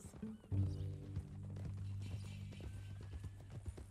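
Hooves clip-clop in a steady walking rhythm as a horse moves along in the Red Dead Redemption 2 western game, close and continuous, with a low hum and faint background sounds beneath the footfalls.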